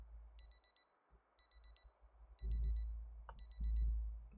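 In the video game Project Zomboid, a digital watch alarm sounds in four bursts of rapid high-pitched beeps, each burst a quick cluster of electronic chirps, with soft thumps and low rumbling in the background.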